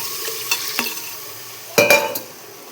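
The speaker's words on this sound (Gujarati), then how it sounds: "આપણે શાકભાજી વઘારી નાખ્યું છે તો ચાલો હવે આમાં છે ને પાણી એડ કરશું" Tempered vegetables in a hot pot for khichdi, a soft sizzle with a few spoon scrapes, then a sharp louder burst as water hits the pan and is stirred.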